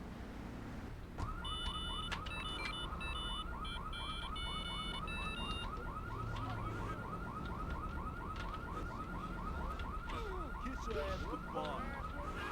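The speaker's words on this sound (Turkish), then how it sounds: "Şunun bir alarmı susar mı artık?" A car alarm in the GTA 3 video game wails in a fast, regular repeating pattern of rising tones, steady and fairly distant, over game background noise for about eleven seconds.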